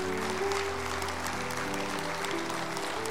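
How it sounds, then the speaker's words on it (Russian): A charity concert audience, at an event supporting disabled children in the Mirny district, applauds loudly and continuously throughout, with a low sustained musical hum underneath and no speech. "Громкие аплодисменты, провожаем вас"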